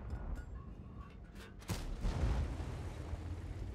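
Tank gunfire in a tank video game: a few muffled distant booms, then one louder cannon blast with rumbling low-end decay, set against game ambience.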